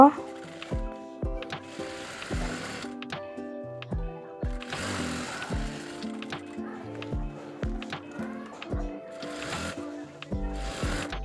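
A sewing machine stitches the body of a kameez in repeated bursts of rapid mechanical whirring and clatter, starting and stopping every second or so, close and clear, with a voice talking over parts of it.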